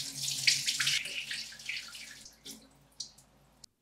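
Rinse water being poured off sushi rice into a sink, a splashy gush that tapers into smaller trickles and a few drips, fairly quiet and close with no talking.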